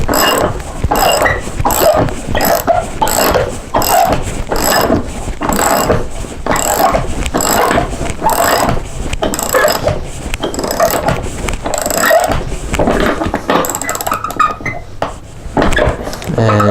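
Hose clamps are screwed tight on a pool filter, producing a rapid, repeated ratcheting and clicking that runs steadily and close by, with brief pauses between bursts.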